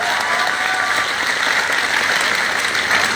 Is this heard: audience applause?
yes